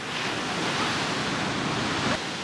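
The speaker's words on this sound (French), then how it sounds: "les vagues sont pas très grosses" Small ocean waves on the Portuguese coast wash steadily in a broad, rushing roar, fairly loud and close, with no voices.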